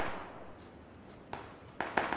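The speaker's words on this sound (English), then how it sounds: "There's gunfire. There's gunfire." A few sharp gunshot cracks in PlayerUnknown's Battlegrounds pop faintly over a dull background rumble, scattered and irregular, sounding somewhat distant.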